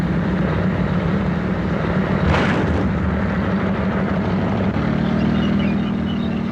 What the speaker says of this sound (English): One of the principal anti-tank weapons in the Gulf is the Hughes AH-64 Apache attack helicopter.